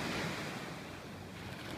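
Ocean surf on Maui rolls and washes continuously at sunrise, a steady broad roar of waves mixed with wind buffeting the microphone, no voices present.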